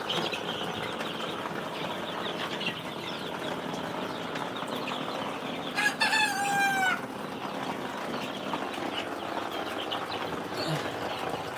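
Chickens of the Original Tiger breed, with chicks about thirteen days old, clucking faintly against a steady farmyard background, with a brief louder crowing call midway.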